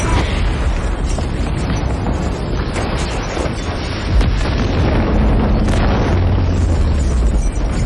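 A factory blows up in a film scene: a dense, loud, sustained roar of blast and rumbling debris fills the whole stretch, with deep booms swelling near the middle and no voices.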